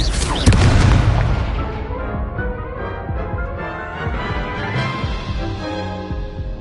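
Spell blast from the Confringo explosive charm in the Hogwarts Legacy video game, a loud booming burst near the start that fades into a rumbling, reverberant tail under layered game sound.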